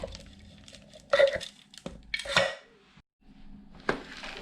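Almonds are tipped onto pistachios in a bowl and mixed while preparing baklava: a few distinct clattering, rattling bursts of hard nuts against a dish, separated by quiet pauses, close and moderately loud.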